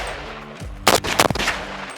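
Gunshots from a 300 BLK pistol with a 7-inch barrel at a shooting range: a few sharp, loud cracks fired in quick succession near the middle, with no talk over them.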